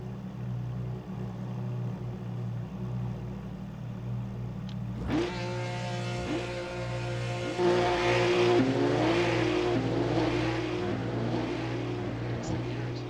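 A race car engine in the Assetto Corsa racing simulator idles with a steady hum, then revs and accelerates through rising and shifting tones, loud and close, with a player talking over it.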